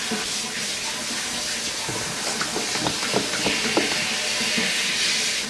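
Water runs steadily from a tap in a home bathroom, a close and continuous rushing hiss with faint splashes and small knocks throughout.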